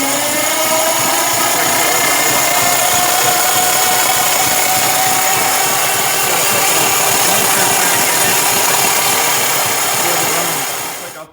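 A 1929 Durant car engine, started after decades unused, runs loud and rough at a steady, buzzing idle for several seconds, then cuts off abruptly at the end.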